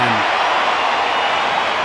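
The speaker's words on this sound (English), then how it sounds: "Loud cheer again from the capacity crowd of the Wanderers." A capacity crowd at the Wanderers cricket ground during an India versus South Africa match cheers loudly, a dense, steady roar filling the whole short moment.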